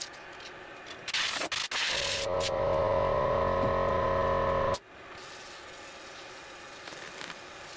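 Sandpaper rubs along a wooden pointer wand, a steady close scratching that builds to a louder continuous sanding stretch and then eases into softer rubbing.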